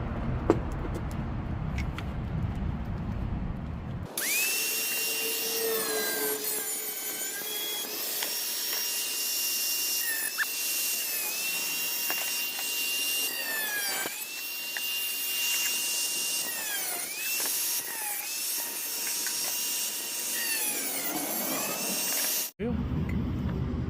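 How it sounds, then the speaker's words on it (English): An angle grinder cuts through a section, starting after a few seconds and wailing loudly and steadily, its pitch dipping and recovering as the disc bites, before stopping abruptly near the end. "And I'll use the grinder."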